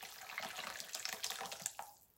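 Water runs steadily from a tap into a slow cooker being topped up for homemade chicken stock, a continuous splashing pour that tapers off at the end.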